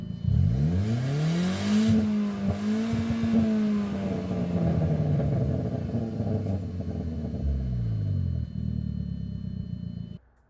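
A boosted project car's engine accelerates hard, a loud continuous roar with pitch climbing and falling through gear changes, heard from inside the car with no talk.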